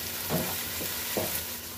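Garlic and a mix of ground spices with paprika fry in a pan for a shrimp curry, a constant close sizzle broken by a few scraping stirs of a spoon, with no voices.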